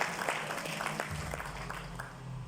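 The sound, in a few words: loud applause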